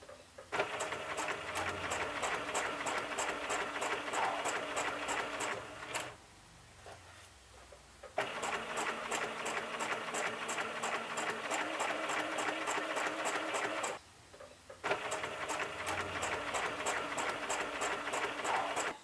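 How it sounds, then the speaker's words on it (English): A sewing machine stitches a dress lining to the bodice in three long runs of fast, even rhythmic clatter, separated by brief pauses while the fabric is repositioned. "After that I will sew the front of the lining to the front of the bodice."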